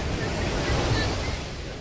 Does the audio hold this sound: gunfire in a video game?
no